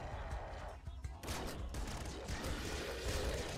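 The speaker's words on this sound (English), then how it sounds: "Use my shotgun here, because it'll do a lot of damage up close" A shotgun fires in the video game Nuclear Throne Ultra Mod. A dense crackle of gunfire blasts comes in two bursts with a brief lull between them, loud and continuous over background game noise.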